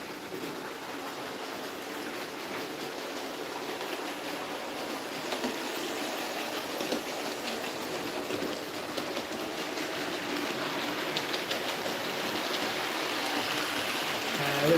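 A model railway Ruston locomotive pulls coaches around the layout, a continuous light rolling rattle with faint clickety-clack that builds slightly toward the end, heard alone at moderate distance.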